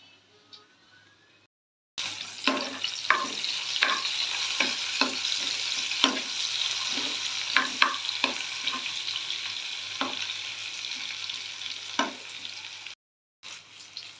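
Fish and assorted ingredients fry in hot oil in a wok for an Assamese fish dish, a steady loud sizzle broken by sharp stirring clatters and scrapes, with brief quiet at the start and end.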